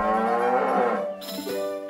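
A single loud, close cow moo from the video game South Park: The Stick of Truth, a long harmonic bellow that drops away near the end with a brief tail.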